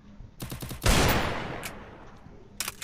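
Automatic gunfire in the Garena Free Fire video game: a quick burst of several loud, rapid shots followed by a heavy, long-decaying blast, then another short burst at the end, with no talking.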